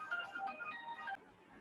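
A phone ringtone melody plays quietly for about a second and a half, a run of short, bright electronic notes during a Hindi-language classroom lesson, then cuts off, leaving a faint room hush.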